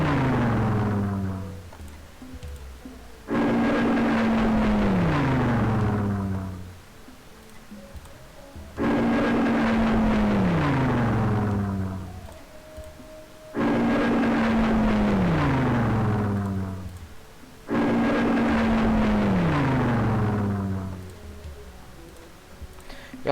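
Aircraft moving in Civilization III, a World War 2 scenario: four repeated, loud propeller-engine swells with a falling drone, each lasting a few seconds and separated by short quieter gaps.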